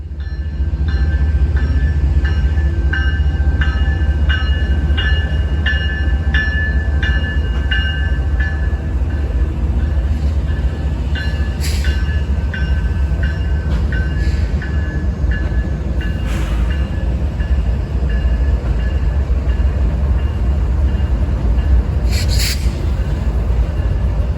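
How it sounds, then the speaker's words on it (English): An intermodal freight train rolls past steadily and loudly for a long stretch, a continuous rumble of wheels and wagons with a few brief higher screeches of wheels squealing on the rails. "Finally, after about 10 minutes, the train picked up."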